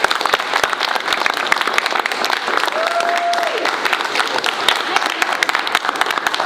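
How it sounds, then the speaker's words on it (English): Middle school students at Kate Bond Middle School clap for their teachers during a school assembly, a loud, busy mass of sharp claps that carries on for several seconds, with a brief whistle or voice rising partway through. "Y'all clap for your teachers"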